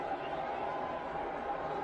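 Stadium crowd at a one-day cricket international in India, cheering a towering Dhoni six against Sri Lanka: a steady, dense roar of many voices filling the whole stretch, distant and even, with a broadcast commentator's voice faintly in the mix.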